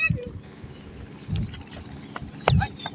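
A motorized trawler boat's engine runs on the water, giving a low, uneven chugging rumble with stronger throbs. A voice speaks faintly over it.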